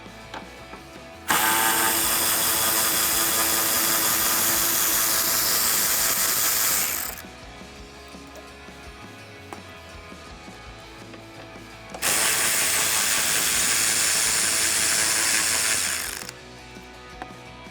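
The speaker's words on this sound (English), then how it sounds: "using my 10mm socket and ratchet, I'm going to remove the 2 bolts here on the front of the headlight" A 10mm socket ratchet removes headlight bolts on a 2009-2018 RAM 1500, with two long bursts of rapid, close clicking, each lasting several seconds, separated by a quieter gap with faint handling sounds and no speech.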